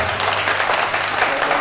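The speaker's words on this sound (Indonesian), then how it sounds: "Tepuk tangan" A crowd at a PDI Perjuangan community gathering in RW 13 Madyopuro, Kedungkandang, Malang, claps steadily in a brief, loud, dense burst of applause.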